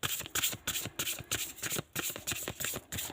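Tarot cards being shuffled by hand in quick, rhythmic riffles, about a dozen crisp bursts in a row, close and fairly quiet with no talking.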